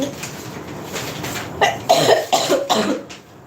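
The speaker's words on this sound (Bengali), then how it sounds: "কাশি শুরু হলে" A short series of harsh coughs from one person, clustered near the end after a quiet stretch.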